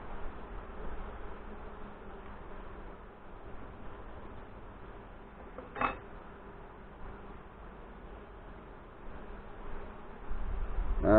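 Honey bees hum in a low, steady drone during a beekeeper's hive inspection, quiet and continuous with a brief knock midway and some rustling toward the end.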